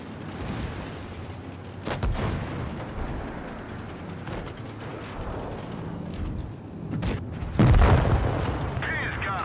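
Tank guns firing in World of Tanks Blitz: several deep booms and blasts at intervals, the heaviest near the end, under a voice talking over the game's rumbling background.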